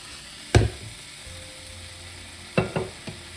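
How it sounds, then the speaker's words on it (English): Liquid poured into a hot pan sizzles sharply in one burst, then a few quick sizzling hisses follow, close and short, with quiet in between. "pour it into the side of the pan so that it sizzles like that"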